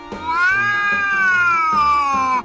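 A single long, drawn-out cat meow, loud and close, rising then slowly falling in pitch over about two seconds.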